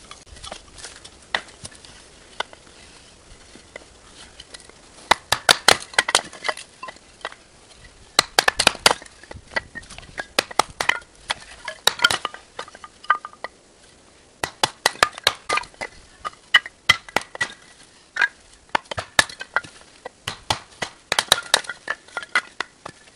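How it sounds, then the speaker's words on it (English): Small firewood sticks are split for a campfire, giving bursts of sharp cracks and crunching snaps in irregular clusters with quiet gaps between them, close by. "So we're trying to split these as equally as possible."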